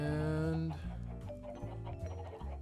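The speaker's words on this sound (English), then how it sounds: "And chickens are looking fine and dandy." Chickens cluck in the blocky game Minecraft, a short stretch of close, steady clucking and soft bird calls over a low background hum.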